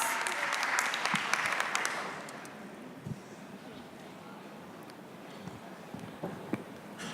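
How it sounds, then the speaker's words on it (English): An audience claps at an evening hardware roundtable event in Singapore, a loud burst at first that thins out after a couple of seconds into scattered claps, with a few voices and stage noise underneath. "let's give him a round of applause."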